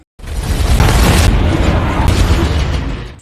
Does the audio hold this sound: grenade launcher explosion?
yes